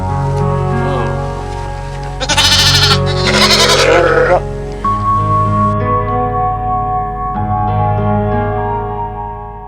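Sheep bleating on a village farm: several loud, close, drawn-out bleats, one after another with a strong raspy cry in the middle, over a steady background hum.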